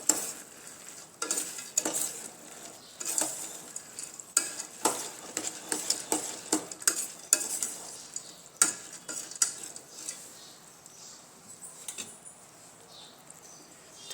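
A spoon stirs and scrapes through a boondi mixture in a pan with the gas turned off, giving close, uneven scraping strokes and soft clinks at a quiet level, with no talking.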